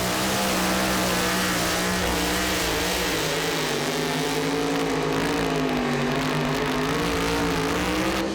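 A super modified two-wheel-drive Nelson pulling truck under full throttle, its engine a loud, sustained high-revving roar with pitch wavering as it strains down the track, continuous and close.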